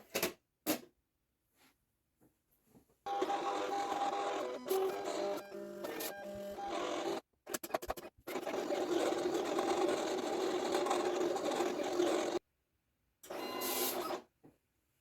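A sticker cutting machine works a mat with bursts of mechanical whirring and motor buzzing broken by short pauses and clicks, close and moderately loud.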